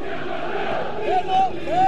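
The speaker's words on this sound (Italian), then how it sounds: "Adesso si sentono anche i cori dei tifosi ospiti" Away fans of Vicenza chant in the stands at a Serie B football match against Ternana, a steady, distant wash of massed voices swelling slightly toward the end.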